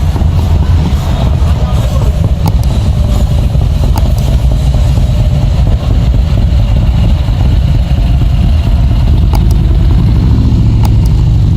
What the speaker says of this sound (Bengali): হার্লে ডেভিডসনের এইসব বাইকগুলো আসলে 750-800 সিসির বাইক।